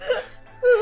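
A boy cries in short whimpering sobs, two brief rising wails separated by a pause, close and fairly loud.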